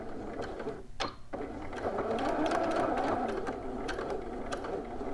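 A sewing machine stitches a 5/8-inch seam on shorts or pants with a back stitch, a steady close mechanical whir in a single continuous run after a brief pause, with no talking.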